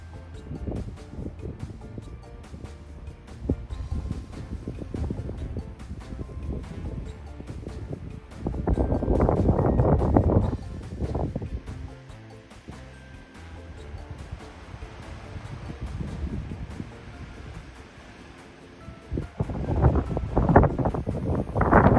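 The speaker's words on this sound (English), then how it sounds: "It's getting windy." Strong gusty wind sweeps across a farm as a storm arrives, roaring and buffeting the microphone in waves that swell loudest midway and again at the end, with rustling throughout.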